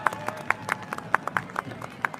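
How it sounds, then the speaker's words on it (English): A crowd at a Gettysburg Remembrance Day event gives a round of applause outdoors, scattered claps of moderate loudness at an uneven rhythm, fairly close. "But let's give them a round of applause right here"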